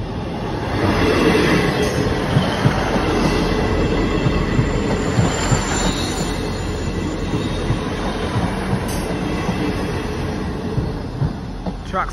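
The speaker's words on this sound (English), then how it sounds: "Train approaching." Train approaching a level crossing at Sherborne, with the warbling crossing alarm in use; a loud, steady rumble of wheels and rails fills the whole stretch with faint clickety-clack and a high squeal, no talk.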